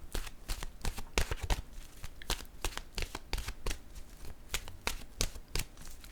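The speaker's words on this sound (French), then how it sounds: "Je vais piger pour ici une carte de mon oracle de l'âme intuitive." Oracle cards are shuffled in rapid, crisp riffling bursts, close and fairly loud, with quick repeated flicks and no talking.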